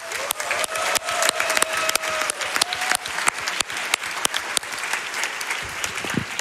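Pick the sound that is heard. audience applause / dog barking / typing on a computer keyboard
audience applause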